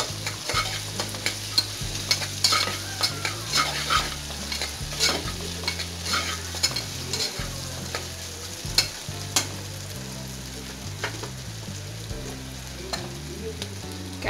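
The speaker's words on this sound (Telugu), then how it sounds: "ఇక్కడ ఫ్రై చేసుకొని కూరగాయల ముక్కలు వేసుకుందాం" Onions, ginger-garlic paste and vegetables fry in oil for brown rice kichidi. The sizzle is continuous and close, broken by frequent sharp clicks and scrapes of a spoon against the pan, with a low hum underneath. There is no talking.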